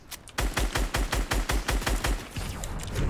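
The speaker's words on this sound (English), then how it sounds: "I'm just randomly shooting in the bush." Rapid gunfire in the video game Fortnite, a quick burst of sharp shots after a brief quiet start, firing in a steady repeating rhythm, loud and close with no talk.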